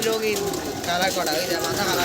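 Madrasi (Andhra tippler) pigeons landing at a pigeon loft in Payradanga, their soft cooing close and steady over two seconds, mixed with a busy wash of background noise and a faint human voice.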